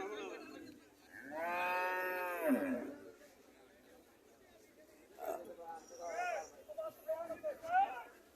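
A Friesian cow at a dairy farm in Cumilla gives one loud, drawn-out moo early on, followed by quieter talking nearby.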